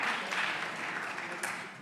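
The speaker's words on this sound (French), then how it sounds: "je vous invite à les applaudir" Brief applause from a seminar audience, soft scattered clapping that fades slightly over a couple of seconds, heard at a low level without talk.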